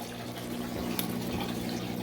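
A Kuppet washing machine drains water with a steady low rushing and gurgling flow and a faint mechanical hum, continuous and close with no talking.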